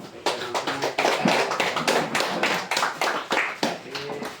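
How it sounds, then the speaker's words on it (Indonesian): Classroom audience clapping hands for a group's presentation; close, steady rhythmic clapping with sharp individual claps, lively and fairly loud throughout, with a few voices mixed in. "kita tepuk tangan untuk teman-teman kita"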